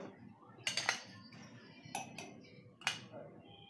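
A spoon clinks and scrapes against a dish as yogurt is spooned in for shorbot, with a few sharp close clinks in separate bursts over quiet kitchen background.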